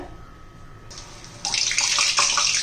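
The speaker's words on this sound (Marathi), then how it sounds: "आता तळून घेऊया" Rava medu vada drop into hot oil on a high flame and fry with a loud bubbling sizzle that swells suddenly and then holds steady, close by with no talking.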